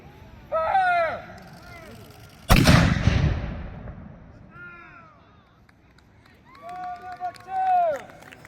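A ceremonial cannon fires at a 250th anniversary event at High Bridge: one loud, booming blast with a long rumbling decay, preceded by shouted commands and followed by more voices.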